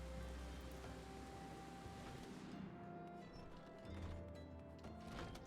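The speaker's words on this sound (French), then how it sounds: "Oh non, il pleut." Steady rain hiss in the video game Final Fantasy XIV Online, soft and continuous, with faint low rumbling underneath and no voices.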